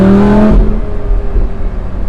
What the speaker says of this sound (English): it sounds amazing. I don't know if this has a aftermarket exhaust, but it sings